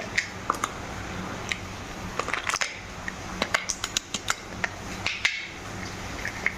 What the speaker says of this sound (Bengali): এবার আমি বরফ দিয়ে দেবো